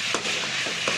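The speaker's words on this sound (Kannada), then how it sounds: "ಟೊಮೊಟೊ ಸ್ವಲ್ಪ ಸಾಫ್ಟಾಗಿ ಬೇಯಲಿ." Tomato softening in a pot of chicken heart and liver sambar, giving off a steady close sizzle with a few soft stirring bumps.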